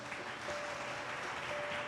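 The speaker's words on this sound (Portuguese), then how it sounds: "Você pode aplaudir o Senhor?" A church congregation applauds during a Portuguese-language sermon: a soft, steady wash of many hands clapping, faint and distant throughout.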